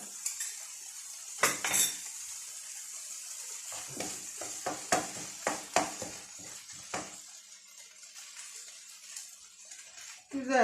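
Tomato paste being sautéed in a pot, with a string of sharp spoon scrapes and clinks against the metal over a soft sizzle, followed by a quieter stretch.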